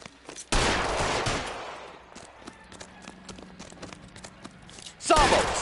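Gunfire from a PS4 video game, a loud burst of shots at the start and another at the end, with quieter game sounds and voices between.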